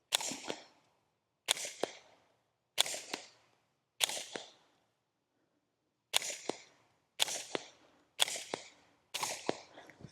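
A Ruger Mark IV 22/45 Lite pistol firing standard velocity .22 ammunition outdoors gives eight sharp, fairly quiet shots, four in an even rhythm, then a short pause and four more, each with a brief decay.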